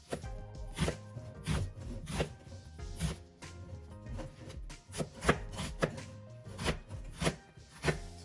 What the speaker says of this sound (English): I'm just cutting into large pieces